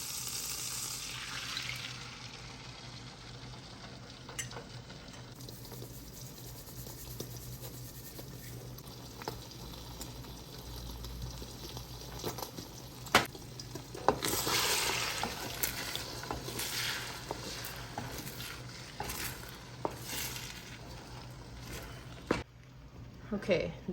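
Whisked eggs sizzle in melted butter in a wok, a steady frying hiss with scattered clicks and scrapes from stirring, close and moderately loud throughout.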